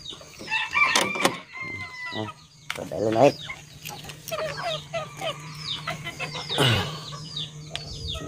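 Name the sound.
chickens crowing and clucking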